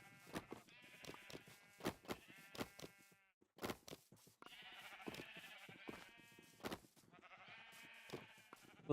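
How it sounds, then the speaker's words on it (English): Sheep in the Minecraft video game bleat repeatedly in a farm area, the wavering calls coming in uneven bursts with short gaps between them, fairly clear and close, with no talking. "Little white sheep in there."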